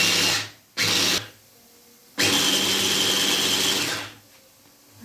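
An electric chopper finely mincing parsley, coriander and mild and spicy peppers runs in loud bursts: two short pulses, then a longer buzzing run of about two seconds, close and without speech.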